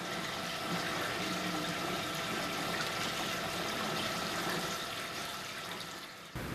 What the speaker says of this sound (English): water is poured into the reservoir to prevent disaster